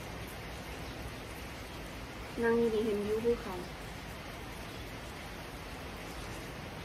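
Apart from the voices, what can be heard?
rain falling in the mountains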